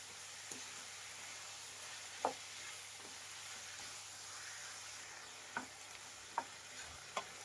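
Capsicum palya sizzles quietly in a pan under a steady low hiss, while a few sharp scrapes and taps of a spoon against the pan mark the stirring.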